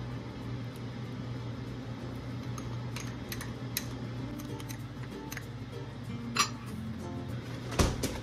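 A spoon stirs pork chop mushroom cream sauce in a pan, giving faint, scattered metallic clinks and scrapes over a low steady hum, with a couple of sharper taps near the end.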